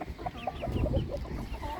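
Cochin bantam hens cluck softly in a series of short, rhythmic notes, close by and fairly quiet, with a few overlapping calls in a farmyard coop.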